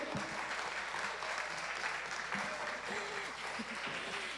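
Audience applause fills a youth service hall, a steady wash of many hands clapping at moderate distance, with some voices murmuring underneath.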